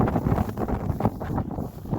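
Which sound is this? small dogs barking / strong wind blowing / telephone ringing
strong wind blowing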